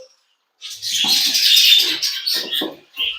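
Several young chicks in a nest box chirp continuously, high shrill peeps overlapping in a busy chorus that starts after a brief silence and carries on to the end, close and fairly loud.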